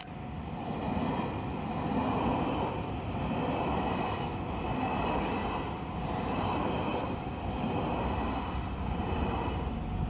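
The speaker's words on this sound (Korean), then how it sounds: "기차 지나간다. 기차." A train passes in Hakodate, Japan, rumbling steadily, a broad continuous roar with rhythmic swells from the rolling cars, moderately loud throughout.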